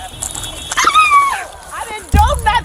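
A dog whimpers and yips in high rising cries near the microphone, mixed with loud voices during a tense police encounter; a sharp thud breaks in partway through.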